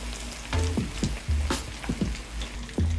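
Zimbabwean-style Scotch eggs fry in a pan with a loud, close sizzle of hot oil. Sharp bursts flare up now and then as the eggs are moved or turned.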